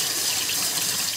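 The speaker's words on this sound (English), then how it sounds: "This is what it looks like when the pipes are pumping water properly." Water gushing from a faucet and flowing through household pipes, a loud, steady rushing stream that runs without a break from start to end, with no talk.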